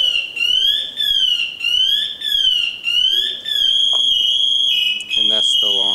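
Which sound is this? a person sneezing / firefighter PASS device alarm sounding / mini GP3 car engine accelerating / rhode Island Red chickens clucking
firefighter PASS device alarm sounding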